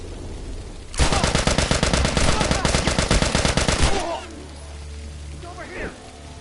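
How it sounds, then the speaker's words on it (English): A rapid burst of gunfire in The Last of Us game, around three seconds of fast repeated loud shots, followed by a quieter ambient hum. "But I could shoot this guy."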